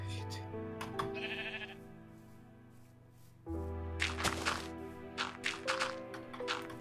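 Blocky video-game sheep bleat in short repeated calls over a steady background music loop, with the bleats clustering more densely toward the end and no clear talk over them.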